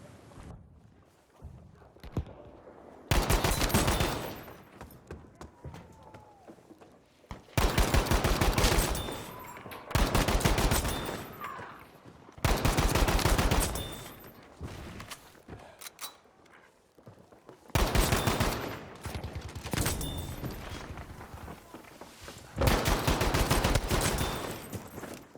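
M1A1 Carbine gunfire in Battlefield V on the Rotterdam map, loud bursts of rapid semi-automatic shots in several separate volleys with quieter pauses between them.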